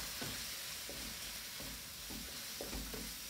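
Garam masala and coriander get stirred into a pan of chicken balti, a soft, constant sizzle with quiet, rhythmic scrapes of a spoon every second or so.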